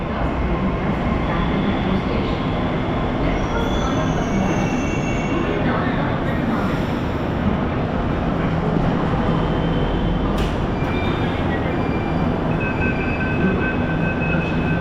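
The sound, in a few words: Mumbai metro train running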